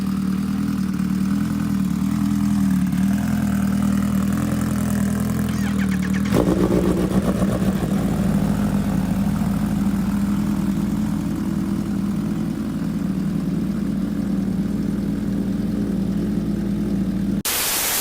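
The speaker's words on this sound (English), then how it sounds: "That's what 300 horsepower sounds like right there." A 300-horsepower Kawasaki Ninja H2 sport bike idles loudly and close, its deep, steady engine rumble running unbroken throughout with a brief throttle blip partway in.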